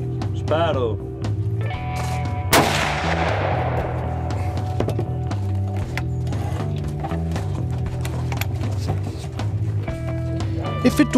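One loud shot from a Franchi Horizon hunting rifle cracks and rings out during a roe deer hunt, its echo fading slowly, with people talking and moving around before and after.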